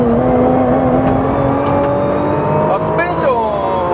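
A 2020 Nissan GT-R NISMO with about 600 horsepower accelerates hard. Its engine drones loudly and steadily from inside the cabin, then the pitch climbs sharply near the end.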